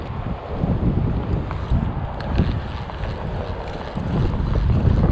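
Wind gusts buffet the microphone on a big Florida river during a speckled trout fishing outing, a steady low rumble and rush that swells and eases, with faint water movement around a boat.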